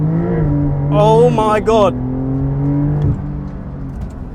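Porsche 911 engine in Sport Plus mode revs hard and rises in pitch for about a second, then drops into a steady loud drone, with an excited voice exclaiming over it.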